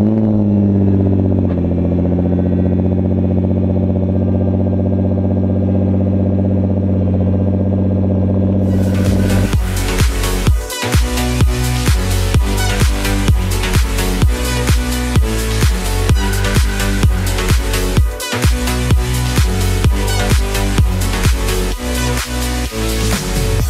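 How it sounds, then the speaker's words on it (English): A sports car engine cold starts, cranking and catching after a quiet idle-like hum, then settles into a loud, steady, rumbling idle with sharp revs, close by. "let's have a cold start up and hear how this thing sounds when you just turn it on"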